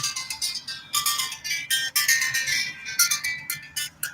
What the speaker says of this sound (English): Look, my phone's ringing, but it's not.